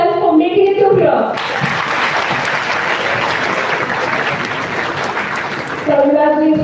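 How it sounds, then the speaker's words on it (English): Students at a college induction program burst into a sustained round of applause, dense clapping filling the room after a short stretch of speech, which picks back up as the clapping dies down. "I want you all to give a round of applause for yourselves for making it to here"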